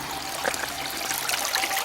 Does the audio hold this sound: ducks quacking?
no